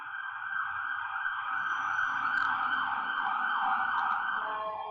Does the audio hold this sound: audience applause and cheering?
no